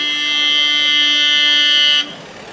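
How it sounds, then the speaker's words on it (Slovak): A Mercedes car horn sounds at a May Day gathering, one long, steady, loud blast held for about two seconds before it cuts off abruptly. "Mercedes sa trúba"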